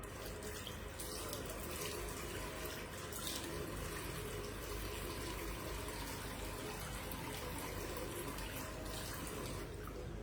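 Water running from a tap into a sink while a face is wetted during a skincare routine, a steady close rushing splash that holds unbroken throughout.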